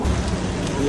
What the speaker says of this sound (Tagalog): Yan, ulan.